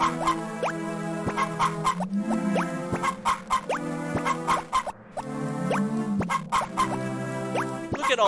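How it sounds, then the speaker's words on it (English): Chickens cluck in Harvest Moon Friends of Mineral Town, with repeated bright, tuneful clucking calls over a steady looping game melody with regular plucked notes. "Look at all those happy chickens."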